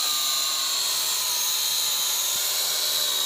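A Syma X8SW quadcopter drone, fitted with a gimbal, camera and landing gear, strains under heavy throttle, its rotors giving a loud, steady, high-pitched buzzing whine close by.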